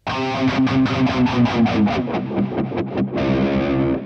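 An electric guitar with effects sustains chords, its pitch bending and warbling under a Bigsby vibrato arm and expression pedal, with choppy repeated strums midway.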